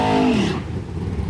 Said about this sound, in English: Here's our next pair of race cars coming up.